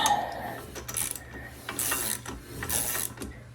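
Ratchet wrench turning a bolt on a Yamaha diesel engine: several close bursts of quick clicking as the wrench is swung back and forth in short strokes, with light metal handling between them.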